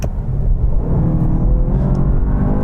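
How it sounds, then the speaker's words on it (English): Engine roar from inside a car during a rolling race from 50 mph between a 1000 hp BMW M5, an M5 Competition and an M550i, a loud steady low rumble under hard acceleration with no talking. "Now we're going for a rolling race from 50 miles an hour."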